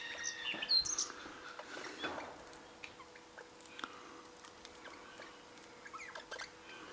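Young magpie and other birds pecking seeds off the ground at Loch Sport, with scattered chirps and light pecking taps against faint outdoor background.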